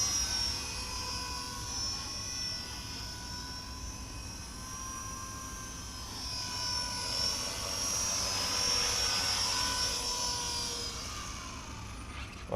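A Blade 200SRX radio-controlled helicopter flies nearby, its rotor and motor giving a steady high-pitched whine with shifting tones that swell louder in the second half, heard alone without talk.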